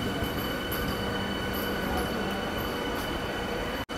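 A brand-new Eastern Railway AC local rake on its first day, running between Sealdah and Krishnagar, rumbles steadily and loudly from inside the carriage, with continuous wheel and rail noise that ends abruptly at a sharp drop.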